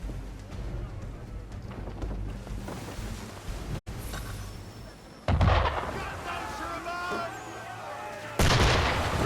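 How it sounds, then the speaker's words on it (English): Enemy ship cannons boom in Assassin's Creed 3, heavy close blasts with rumbling tails, one sharp burst midway and another loud hit near the end, with voices and ship ambience beneath. "Why is he shooting at us?"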